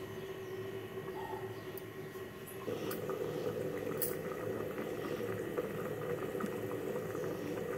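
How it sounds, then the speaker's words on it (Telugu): A pot of curry, an egg curry, simmers steadily with a soft, continuous bubbling that grows slightly fuller partway through, quiet and without talk. "కూర ఉడుకుతుంది."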